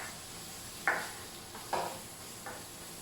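Spice dropped onto the base of a dry pan while cooking mushroom stroganoff, heard as three short bright sizzling bursts spaced about a second apart, each fading quickly, over faint room hiss.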